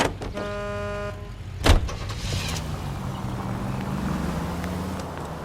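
A car in the video game L.A. Noire starts up with a sharp thump and settles into a steady low engine rumble, preceded by a brief electronic whine; the car sound is close and continuous.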